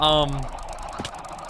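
Chickens in a Minecraft chicken farm give a short harmonic cluck at the start, followed by quieter game ambience and one faint click.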